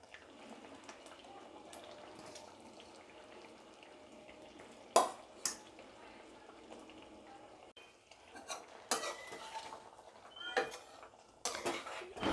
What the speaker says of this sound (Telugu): ఫుల్ కలపకండి, ఊరికే అల్లా ఇలా తిప్పేయండి చాలు.